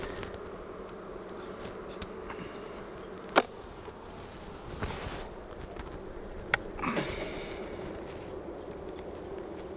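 Honey bees hum in a soft, continuous drone around a single brood chamber hive of stacked medium boxes, with a couple of sharp clicks and light handling noises.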